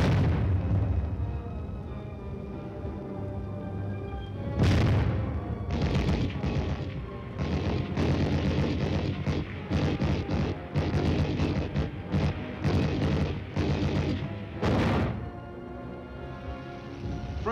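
Military training footage of a large field exercise with an atomic artillery barrage and advancing tanks: a steady low rumble, then a rapid series of sharp, loud blasts and booms through the middle, easing toward the end.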